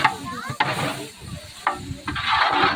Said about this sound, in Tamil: தயிர் சேர்த்துட்டு நல்லா ஒரு டைம் நல்லா கிளறி விட்டுடலாம்